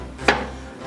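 A sharp kitchen knife makes a single crisp slice through a cucumber on a cutting board, close and clear against a low steady background hum.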